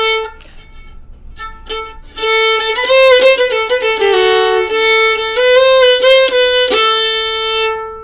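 Old Joe Clark fiddle tune played in D on a single stringed instrument, a lively melodic line of quick notes that starts sparse and then runs on steadily and loud, with no talking.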